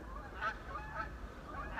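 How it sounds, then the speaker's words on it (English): Geese honk overhead outdoors, giving several faint, distant calls in a loose rhythm over a low background rumble. "and the geese overhead"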